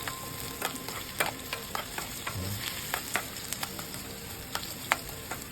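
Potatoes fry in oil in a pan for adobo, giving a steady close sizzle broken by repeated sharp clinks and scrapes as they are stirred, with no voices.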